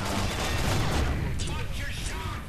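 TAR-21 assault rifle fired in a video game, a dense, continuous burst of thudding automatic gunfire with booming explosions mixed in, loud and close throughout.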